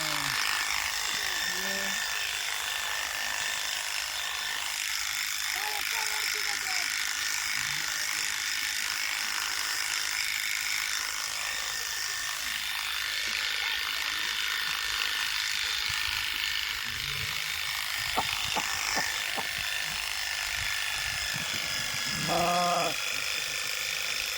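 Electric shears run steadily on a sheep being sheared. The continuous buzzing hum lasts throughout, with a few faint animal sounds and brief rustles mixed in.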